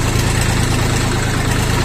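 A Xingtai 24 hp 4x4 mini tractor engine runs at a steady idle, a close, loud and even low throb with a mechanical rattle and no talk.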